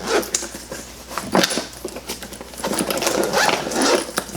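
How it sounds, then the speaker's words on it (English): A zipper drawn along a red cloth makeup pouch from a holiday beauty box, a run of close, rasping strokes that rise and fall over several seconds with no talk. "the zipper"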